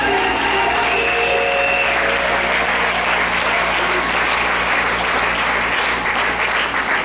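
A church congregation applauds and cheers in praise during a French-language service, with steady, dense clapping and crowd noise that fills the whole stretch at a loud level.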